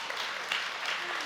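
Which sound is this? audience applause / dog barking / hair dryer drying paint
audience applause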